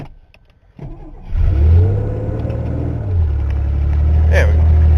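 An old Ford engine cranks and catches, then settles into a loud, steady idle that surges once partway through, close by, with a brief voice near the end.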